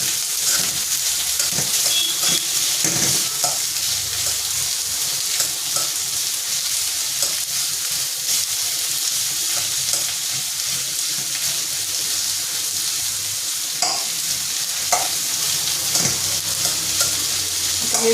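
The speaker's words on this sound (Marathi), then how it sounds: "हे चांगले लाल होईपर्यंत छान परतून घेऊयात आपण कांद्यांना." Onions sautéing in a pan for a dhaba-style Kolhapuri chicken dish, a steady close sizzle broken by repeated scraping stirs, continuous throughout with no talk.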